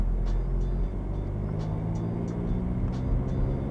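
A learner's car pulls away during a driving lesson, its engine giving a steady low rumble that builds gently as the throttle opens, with faint ticking clicks above it and no voices.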